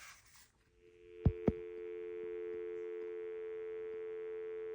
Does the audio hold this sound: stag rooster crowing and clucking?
no